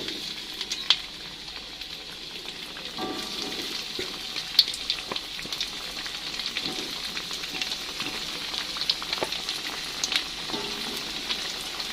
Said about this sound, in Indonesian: Jika minyaknya sudah cukup panas, kita langsung taruhin aja tempenya ya teman-teman.